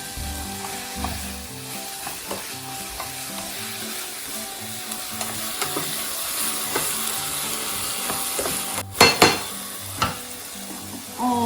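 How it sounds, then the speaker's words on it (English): Garlic hits a hot pan of frying salmon and spinach, giving a steady close sizzle that runs throughout, with a few spoon scrapes and brief louder crackles near the end. "I'll add the garlic now at this point."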